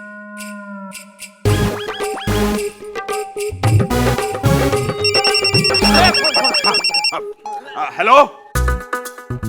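A telephone rings in a domestic scene of a Hindi TV drama, with repeated bursts of ringing and ringtone tones mixed with music and voices, followed by someone answering.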